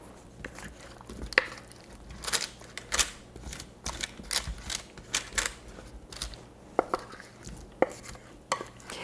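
Roasted potatoes being dumped onto a baking pan and spread out evenly, a run of irregular clicks, scrapes and taps close by with no talk over them.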